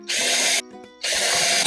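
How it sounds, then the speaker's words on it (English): A power drill pre-drills holes in wood while a timber frame is built, two loud whirring bursts close by separated by a brief pause, with no talking. "Pre-drill, pre-drill."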